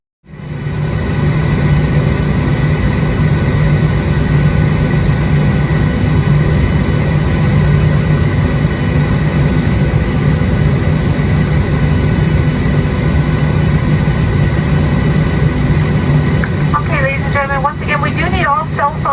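Loud, steady low engine rumble and cabin hum of a United Airlines airliner during pushback at Houston throughout, with a few faint sounds near the end.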